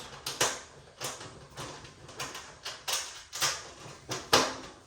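Washer and nut being fitted onto a stainless steel patio heater during assembly, a series of close, sharp metallic clicks and taps at irregular intervals, each quick and distinct against a quiet background.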